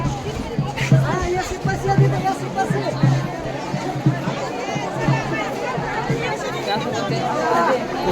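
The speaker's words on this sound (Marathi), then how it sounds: "खूप गर्दी झालेली आहे." A dense crowd of devotees at the Saswad temple fair honoring Sant Sopandev, a steady babble of many voices close around, with rhythmic chanting or drumming pulsing underneath throughout.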